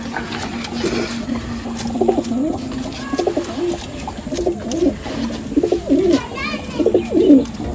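Madrasi pigeons coo in a loft in a series of low, throaty rolling calls, close and moderately loud, with faint background chatter from people.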